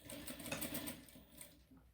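A sewing machine stitches embroidered trim onto a cloth diaper, a fast, even mechanical chatter heard up close and fairly quiet, easing off toward the end.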